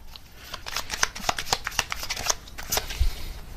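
Tarot cards being shuffled and drawn, a steady run of crisp riffling flicks and soft slaps close to the listener, with no speech over them.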